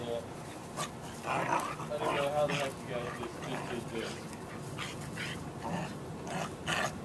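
Several Jindo dogs playing, with yips, whimpers and short barks scattered among scuffling noises, while people talk over the commotion.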